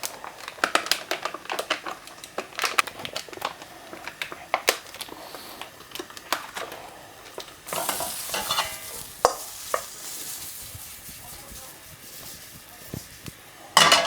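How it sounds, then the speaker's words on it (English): Pancetta frying in a wok, a continuous crackling sizzle broken by frequent sharp clicks and scrapes of stirring, louder and hissier in the second half, with no talking. "in a wok, we're going to get our pancetta"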